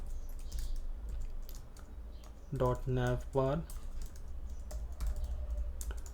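Someone types code on a computer keyboard, producing a close, rapid run of light key clicks, with a brief voiced sound partway through.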